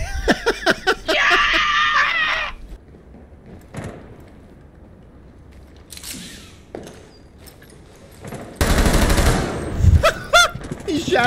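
Bursts of automatic gunfire from the video game Rainbow Six Siege come through loud and close, mixed with game effects and separate single shots, with excited voices shouting over it.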